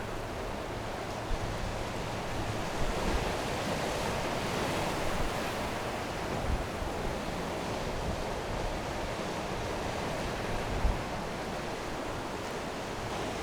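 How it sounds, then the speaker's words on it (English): Sea waves wash continuously along the shore at St Michael's Mount, Cornwall, a steady broadband roar with gentle swells and faint wind, fairly close and with no voices. "The waves just pick up."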